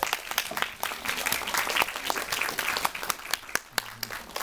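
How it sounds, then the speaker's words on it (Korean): A film-screening audience at a post-film talk claps for the Swedish ambassador, brisk scattered applause with sharp individual claps running the whole stretch before a voice begins near the end. "대사님에게 박수 한번 좀 부탁드릴까요?"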